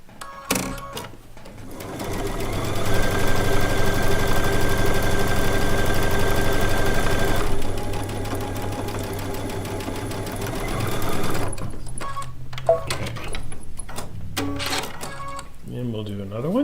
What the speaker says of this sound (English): flip it around to sew the other side